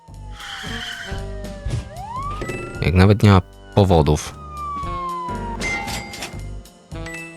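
Police car siren wailing during a chase in the Swords & Souls video game, with rising and falling siren sweeps, engine hum and tire skids, loud and close, under someone talking over the game.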